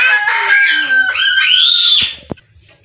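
A white rooster crows loudly and close by in one long, rising and falling call, with no other sound behind it.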